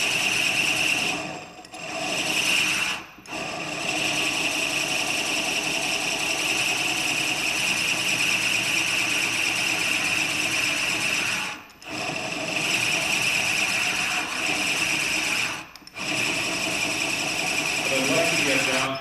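A drill bores steadily into wood while a honey pot is being made, a continuous loud whine that runs nearly unbroken, stopping briefly a few times before starting again, with someone talking over it.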